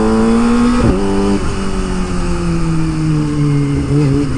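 A Kawasaki ZX25R motorcycle with an Akrapovic exhaust runs loud and close, its engine note holding high and dipping with quick gear changes, then easing down in pitch.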